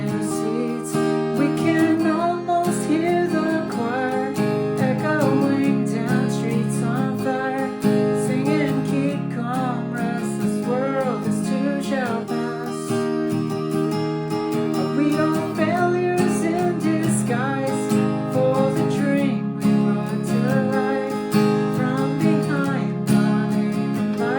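Guitar playing the chorus of a song, with steady, full chords ringing continuously at a strong, even level from start to finish, and no talking.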